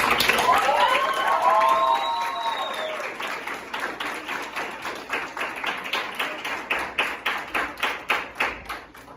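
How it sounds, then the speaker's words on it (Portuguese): A seated audience at a two-year anniversary event applauds to welcome university students to the table, a dense burst of clapping that thins into slower, rhythmic hand claps near the end, with a few voices early on. "Uma salva de palmas para vocês."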